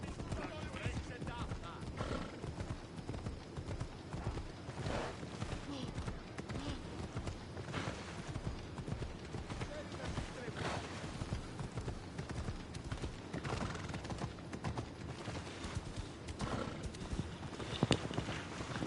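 Steady clopping of horse hooves in Assassin's Creed Odyssey runs through the whole stretch, even and rhythmic over a dense, continuous background of game sound.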